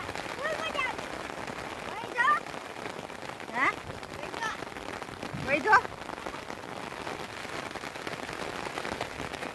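Heavy monsoon rain in Gujarat hisses steadily throughout while people talk briefly over it, with a few louder splashy bursts.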